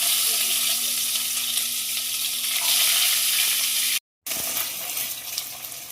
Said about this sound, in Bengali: তেল গরম হয়ে গেছে মাছটা ভাজার জন্য ছেড়ে দেয়